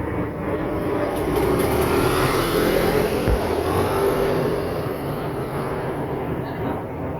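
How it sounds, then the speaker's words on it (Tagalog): A car pulls away outside a house during a house blessing gathering in Cainta, its engine a steady broadband rumble that stays loud and constant throughout, with voices audible underneath. "Ito, aalis na rin tong isang sasakyan na to."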